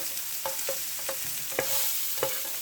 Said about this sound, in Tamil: இப்போ பாருங்கள் இந்தளவுக்கு ஃப்ரை பண்ணால் போதும், ரொம்பலாம் வதங்கக்கூடாது